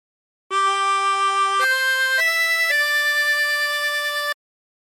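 A diatonic harmonica plays a phrase of the hymn Nearer My God to Thee without bends, four sustained notes stepping upward and then settling, each held cleanly and played alone at close range.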